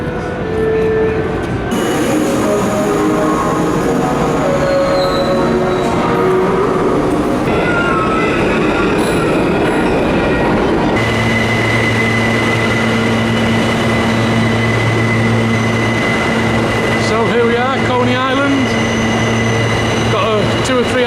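A New York City subway train rumbles along with shifting mechanical hum, rattling cars and a sustained low drone, a few squeals near the end.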